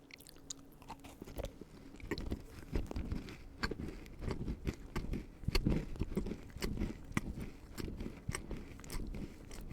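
A chocolate chip butter cookie from a Christmas assortment being chewed and crunched up close, with irregular crisp bites and soft mashing that keep going throughout.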